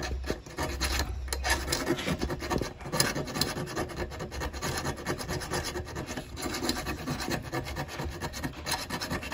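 Plastic is scraped down with a file to fit an extra brake light on a Motorstar 125 motorcycle. The rasping is close, continuous and gritty, with no talk.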